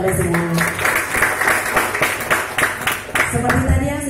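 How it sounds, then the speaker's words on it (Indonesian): Audience applause in a seminar hall at an insurance agent recruitment talk, a dense run of many hands clapping at once, loud and close, with some voices mixed in. "Tepuk tangan untuk Anda semua"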